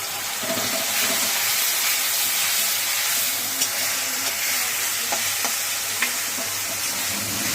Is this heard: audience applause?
no